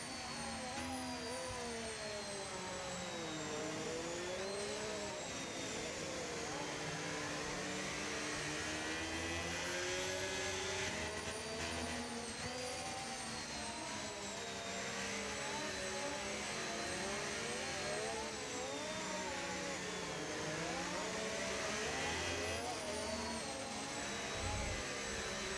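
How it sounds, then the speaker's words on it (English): A Ferrari race car engine in a racing video game revving and accelerating, a high, whining tone that repeatedly climbs and drops through gear changes, steady and unbroken with no voice over it. "listen to that Ferrari engine as Quincy gets us back underway"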